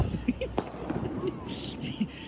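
New Year fireworks burst in Romania, scattered sharp pops and a louder crack at a distance, with a person talking over them.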